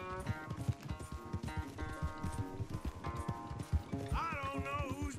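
Horse hooves clip-clop in a fast, steady gallop during a Red Dead Redemption 2 race, with a neigh rising near the end and a voice talking over the hoofbeats.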